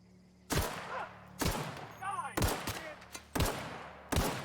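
Gunshots in The Outer Worlds, five sharp single reports spaced roughly a second apart, loud and near, with scattered game sounds in the gaps.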